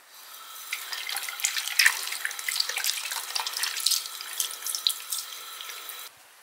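A bathroom tap runs steadily into a sink while hands are washed beneath it, a constant close splashing rush for about six seconds that cuts off at the end, with no voices.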